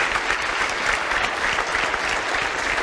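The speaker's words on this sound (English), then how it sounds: "I think we should give Rosa one more applause." An indoor audience at a talk applauds steadily, a dense, even wash of clapping hands throughout with no break.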